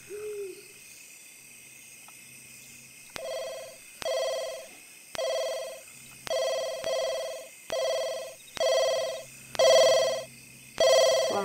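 A telephone ringing in the video game The Sims 2, a regular electronic ring repeated about eight times at a steady pace, clear and alone over a faint background hum.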